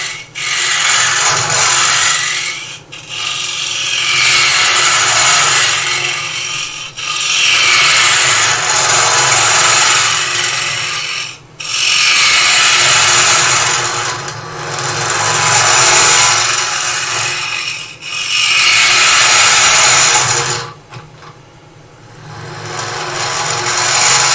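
A wooden box being hollowed out with a power tool, a loud rasping cut that runs in long strokes of several seconds each, broken by brief pauses between passes.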